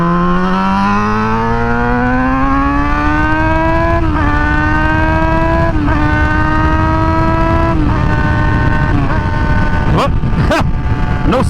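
A Yamaha FZ6R motorcycle fitted with R6 rear-sets accelerates hard, its engine note climbing steadily through several gear changes before downshifting with brief blips, loud and close under wind noise.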